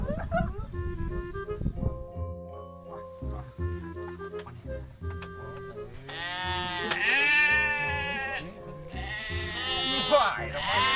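Sheep bleat repeatedly in a rural Sundanese setting, with several loud, wavering calls close by, overlapping with people talking and shouting around them.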